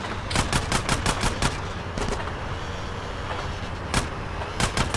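Gunfire in GTA: San Andreas, a rapid burst of sharp automatic shots followed by a pause, then isolated single cracks and another short volley, loud and close over a low engine rumble.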